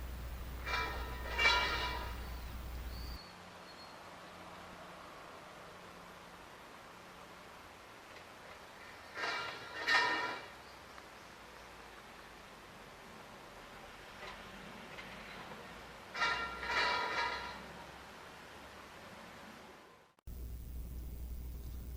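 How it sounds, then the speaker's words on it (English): Scaffolding being put up or taken down at a building site in Japan: three separate bursts of metallic clanking and ringing pipe strikes, spaced several seconds apart, moderately distant over a steady background hum, with no voices. "So it's the sound of scaffolding being erected and or taken down."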